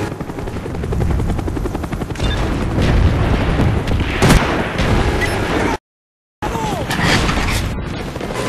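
A mortar team artillery strike in the video game Black Ops, with heavy booming impacts and bursts over a rumbling, helicopter-like drone, loud and close, broken by one short dropout.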